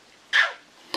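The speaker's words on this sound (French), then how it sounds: "C'est une petite cavalière King Charles" A small Cavalier King Charles spaniel gives a short yip or bark, followed by a fainter brief sound, close by and with no talking.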